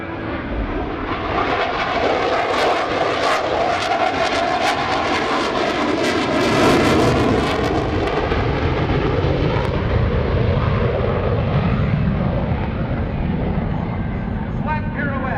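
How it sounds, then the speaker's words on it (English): A Boeing F/A-18F Super Hornet jet performing a slow, high angle-of-attack flat pirouette at the 2018 NAS Oceana airshow roars loudly and continuously overhead, its engine tone shifting as it turns, with announcer speech and crowd noise underneath. "will demonstrate the Super Hornet's unique ability to operate at slow speeds and high angles of attack"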